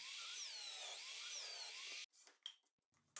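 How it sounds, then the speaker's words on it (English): A hole saw cuts two 63mm holes for blast gates in a workbench box, a loud steady high-pitched grinding whine held for about two seconds, then cut off and followed by a few short scraping knocks. "I'll drill 2 holes for the 63mm blast gates with a hole saw"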